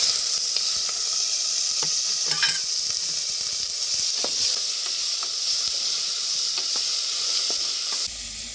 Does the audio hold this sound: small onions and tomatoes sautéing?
yes